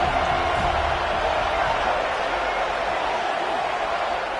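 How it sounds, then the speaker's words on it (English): Stadium crowd in a college football video game, Sooners against Florida State, cheering loudly and continuously on second down late in the game, a steady dense roar. "This crowd even louder now on 2nd down as they try to hold on."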